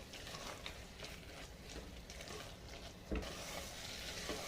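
Mixed vegetables for a Bhogi curry being stirred and sautéed in a pan, with steady sizzling and frying crackle, scraping and light clinks of the spoon, one sharper knock near the middle.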